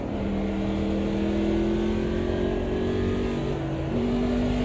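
Classic NASCAR stock car engine in the AMS2 racing game, held steady and loud at high revs with a droning tone that dips briefly and climbs again as the throttle goes back on, continuous throughout.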